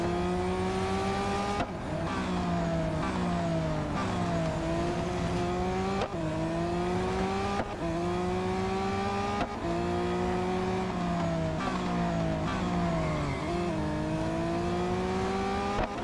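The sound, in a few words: Lamborghini engine racing in video game Real Racing 3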